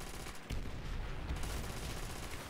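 Gunfire in Call of Duty: World at War custom zombies, a dense, continuous burst of shooting that swells after a brief start and keeps rattling steadily, loud and noisy throughout.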